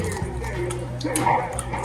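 A dog whimpers and yips softly in short bursts close by, partly under people chatting in the background during a home lunch.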